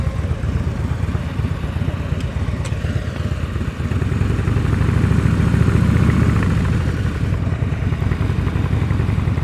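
A motorcycle engine idles and putters steadily at low revs during slow-speed riding practice, its low rumble continuous and fairly close, swelling slightly in the middle with a few faint clanks.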